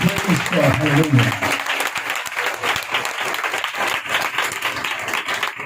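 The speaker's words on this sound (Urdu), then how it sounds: "آئیے روح القدس کو ہم زوردار تالیوں کے ساتھ ویلکم کریں گے" A church congregation bursts into loud, sustained applause during an Urdu-language Easter service welcoming the Holy Spirit, a dense wash of many hands clapping close by. A voice is heard briefly at the start over the clapping.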